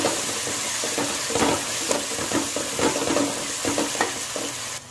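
A spoon scrapes and stirs vegetable fried rice with garam masala powder in a pan over a steady sizzle, the tosses coming in irregular clusters, close and moderately loud, with no voices.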